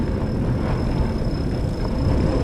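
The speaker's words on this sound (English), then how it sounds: "Sounds like a roller coaster, the SkyTrain." A SkyTrain in Richmond, BC rolls past as a steady loud low rumble with a faint high whine, heard from a moving e-bike amid continuous wind and road noise.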